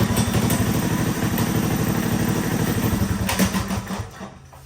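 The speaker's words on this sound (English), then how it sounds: "you could start this thing first pull, even when it's cold" A Coleman CT100 mini bike with a swapped-in 196cc engine, already hot, chugs steadily at close range with a rapid even putter, then is shut off and dies away near the end.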